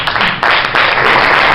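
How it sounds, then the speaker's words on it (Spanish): An audience at a Podemos workshop event in Granada breaking into applause for Nagua Alba, loud dense clapping that swells partway through and keeps going, with no voices over it. "quiero darle un aplauso y un besazo a Nagua Alba"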